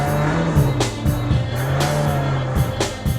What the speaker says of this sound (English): Drive in the snow, which is always fun.